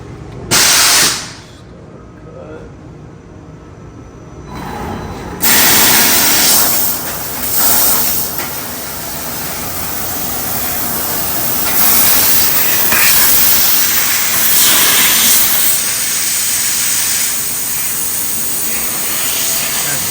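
A machine cuts metal sheet into pieces for a vintage-style gas station sign, giving off a loud, steady, roaring hiss that swells and holds for most of the stretch after a few short bursts at the start.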